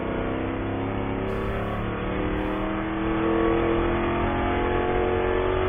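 A V8 ChampCar endurance race car engine drones loud and steady as the car works around the track, holding a sustained roar with a slight rise in intensity partway through.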